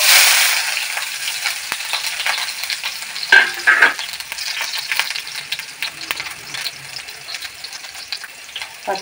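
Onion frying in hot oil in a pan, a steady crackling sizzle that bursts loudly at the start as it hits the oil, then settles with occasional stirring scrapes.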